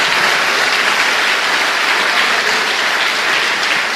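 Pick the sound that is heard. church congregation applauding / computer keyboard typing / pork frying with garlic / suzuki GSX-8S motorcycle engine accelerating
church congregation applauding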